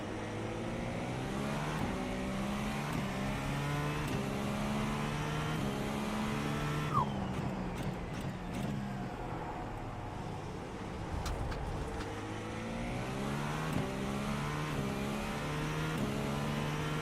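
A race car engine roars steadily in the iRacing sim, revving and shifting with rising and falling pitch as it overtakes a Cadillac, loud and continuous throughout.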